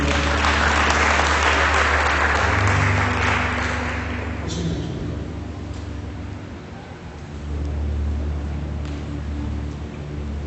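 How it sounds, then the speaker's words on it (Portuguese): A church congregation applauds as they rise to their feet, a dense, sustained wash of clapping that swells early and then thins out, with a low hum running underneath. "Você pode aplaudir Jesus, vamos ficar de pé"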